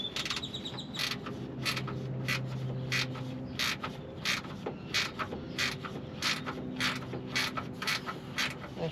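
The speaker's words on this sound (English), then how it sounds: "you're gonna need an 8mm to take off the solenoid itself" An 8mm ratcheting wrench works loose the bolts on a Ford Bronco starter solenoid in a garage, giving a close, rhythmic series of creaking clicks at a steady pace with no talking.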